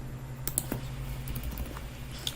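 Keys clatter on a computer keyboard in an irregular run of soft taps and a few sharper clicks, close up against quiet room tone.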